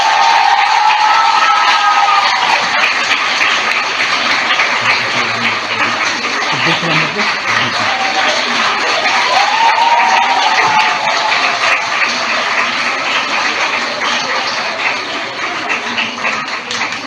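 An audience at a Population Welfare Department event in Pakistan applauds and cheers steadily, a dense, sustained crowd clapping with a few voices and shouts mixed in.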